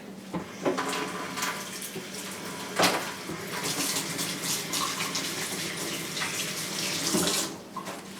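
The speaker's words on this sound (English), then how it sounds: "And I need to wash my hands." Water runs steadily from a kitchen tap while hands are washed, a continuous near splashing stream with small shifts as the hands move under the flow.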